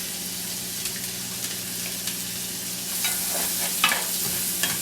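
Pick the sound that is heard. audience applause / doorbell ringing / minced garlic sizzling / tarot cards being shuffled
minced garlic sizzling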